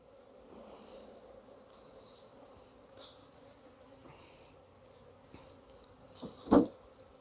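Honey bees buzzing around hive frames filled with mustard honey, a faint continuous hum with scattered passing buzzes near and far, ending in a sudden louder rustle up close.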